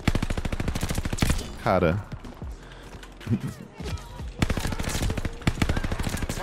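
DP-27 light machine gun fired in the shooter game Call of Duty: Vanguard, rapid automatic bursts with steady rhythmic cracks, pausing briefly before another long stream of shots, with someone talking over parts of it.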